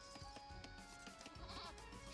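Sheep bleat in the Age of Empires video game, a short wavering cry over busy game music and effects.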